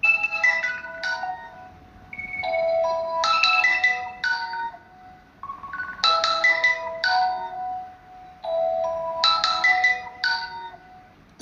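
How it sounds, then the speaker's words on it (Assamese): A mobile phone rings with a melodic electronic ringtone. The tune repeats in clear bursts separated by short pauses, close and alone with no talk over it. "ফোনটো বাজি উঠিল"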